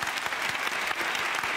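A studio audience on a live TV show applauds in steady, dense, continuous clapping with no pauses.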